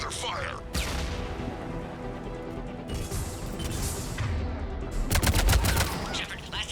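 Gunfire during a firefight in Mass Effect 3 on Sur'Kesh, bursts of rapid shots and crashing impacts over a dense battle backdrop, with a character's voice speaking amid the shooting.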